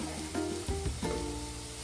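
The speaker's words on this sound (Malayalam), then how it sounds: "ഉള്ളിയൊക്കെ നന്നായിട്ട് മൂത്ത് വന്നിട്ടുണ്ട്" Shallots and slit green chillies frying in oil for a green peas curry, giving a steady close sizzle with a few low bumps and stirring knocks, moderately quiet and without speech.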